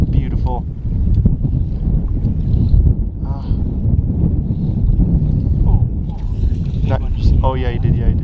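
Wind gusts outdoors beside a Montana trout creek, a steady loud roar and buffeting over the microphone throughout, with people talking excitedly over it.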